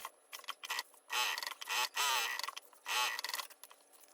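A sewing machine stitches a seam on tote bag fabric in several short bursts of rapid, clicking mechanical chatter, separated by brief pauses, close-up and fairly quiet.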